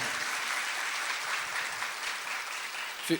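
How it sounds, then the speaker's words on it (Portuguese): Audience applauding at a lecture on tarot cards: steady, dense clapping throughout that fades slightly near the end, close and moderately loud, with no talk. "Fico feliz pelos aplausos, muito mesmo."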